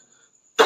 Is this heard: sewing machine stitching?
no